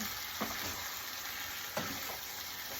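Shrimp and squid sautéing with pork in a hot pan for adobong pusit. A continuous sizzle runs throughout, with occasional scraping stirs.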